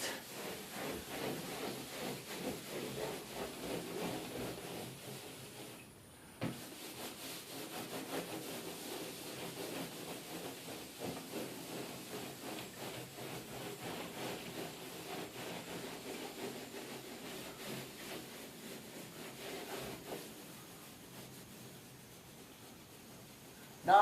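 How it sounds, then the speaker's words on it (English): Faint, steady rubbing of a cloth or pad working glaze off around the edge of a raised stencil on an elephant-skin faux finish, a soft continuous scrubbing with no talk. "Now I'm starting to rub in a little bit around the edge of the raised stencil just to kind of remove some of that glaze"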